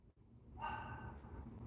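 One dog barks once from a distance outdoors, a brief faint yelp followed by a lingering ringing tail against steady low background rumble.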